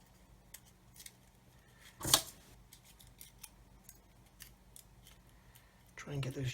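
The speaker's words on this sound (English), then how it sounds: "Let's just give all this a little trim." A sharp snip of scissors cutting foil on a 1/144 Saturn V model kit, followed by faint ticking handling noises and quiet background, with another burst of cutting and rustle at the end.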